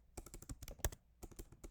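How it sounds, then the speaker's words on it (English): Fingers tap quickly on a computer keyboard, soft irregular bursts of keystrokes with a short pause midway, heard alone and fairly quiet. "Goodness, my typing is crazy."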